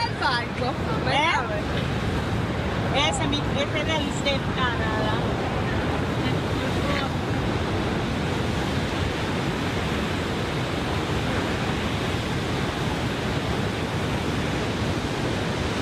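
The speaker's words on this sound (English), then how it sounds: "It's a Niagara Falls." Niagara Falls roars in a steady, broadband rush of falling water close by, continuous and loud, with brief talk at the start.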